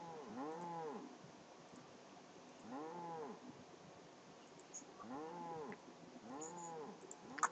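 Cows in the WorldCraft video game moo again and again, four or five drawn-out, wavering lows spaced a second or two apart, fairly quiet against a soft steady background.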